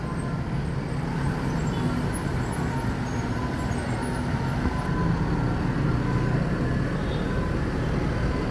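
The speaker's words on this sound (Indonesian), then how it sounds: "Dua unit bus Sumbar masuk, satu Mior Sleeper Jetbus 5 dengan gelar tinggi ame, yang satu lagi NPM" Sumbar buses, including a Mior Sleeper Jetbus 5, arriving with a steady low engine rumble and road noise that hold at a constant level throughout, heard from a moderate distance with no talking.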